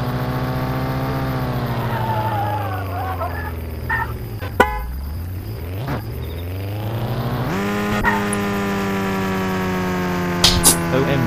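A car driven in a video game, its engine whining loudly and steadily, dropping sharply in pitch mid-way before revving back up, with a sharp tick and a few brief clatters near the end.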